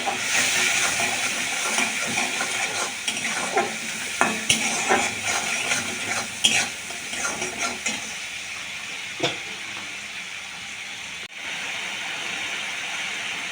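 Spices with chili powder sauté in a pan for a fish-head mung dal, a steady close hiss and sizzle broken by scraping spatula strokes and a few clanks, easing off near the end.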